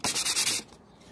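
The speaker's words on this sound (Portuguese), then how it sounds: "Porque quando se trata de um kit em pintura, aí a gente tem que ficar lixando bem mais." Sandpaper rubs briskly over an MDF piece before painting, a few quick, close scraping strokes that stop abruptly and leave near silence.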